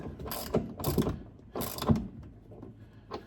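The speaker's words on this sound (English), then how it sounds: "snip it up with a ratchet. Quite a long threaded bolt, so you'll be going at it a little while." Ratchet tightening a long threaded bolt inside a Jaguar X300/X308 during headliner replacement, heard as several close bursts of clicking pawl strokes with short pauses between them.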